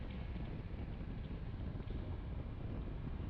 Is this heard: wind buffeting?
yes